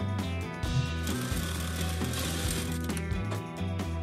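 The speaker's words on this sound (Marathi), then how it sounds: "शिलाई मारताना अगदी व्यवस्थित अशी शिलाई मारायची आहे" A sewing machine stitches a blouse back neck, giving a fast, steady mechanical clatter with a low rhythmic hum, running continuously with no talking.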